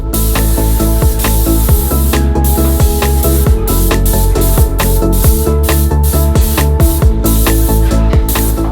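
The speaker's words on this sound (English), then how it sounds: "I started by spraying all of the paneling on the far side of the room" Steady, loud hiss of a paint sprayer spraying bedroom wall paneling runs continuously, with faint mechanical pulsing underneath, close and unbroken throughout.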